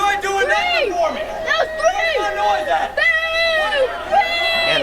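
Wrestling fans at an NGW/NMW independent show heckle wrestler Michael Shard, many voices shouting and jeering over one another continuously with no pause.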